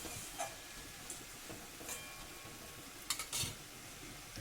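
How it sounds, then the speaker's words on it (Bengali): Fried pointed gourd (potol) being stirred in a pan, a quiet sizzle broken by a few sharp scrapes and clinks of the spatula, close and without talk. "পটলটাকে দিয়েও একটু নাড়াচাড়া করে নেব।"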